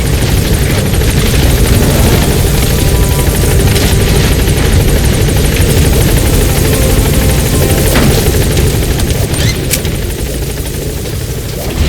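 The Pequod helicopter arriving at a landing zone in Metal Gear Solid V, a loud, close, steady rotor thump and engine drone that lasts the whole stretch.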